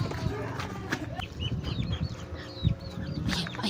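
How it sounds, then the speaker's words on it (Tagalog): A chicken clucks in short, choppy bursts close by, set against a busy background of other fowl and farmyard noise. "Ayun, chicken!"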